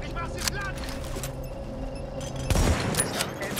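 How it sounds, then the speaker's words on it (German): A grenade explodes in The Division during a firefight, a sharp loud blast near the end following scattered gunfire and ambient game noise, with someone talking over it. "Oh, der wirft eine Granate, oder?"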